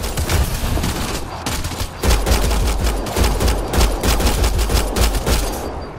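Rapid gunfire in a firefight in Mass Effect Andromeda, dense bursts of automatic shots in quick succession, loud and close, with brief dips before the shooting surges again and continues steadily to the end.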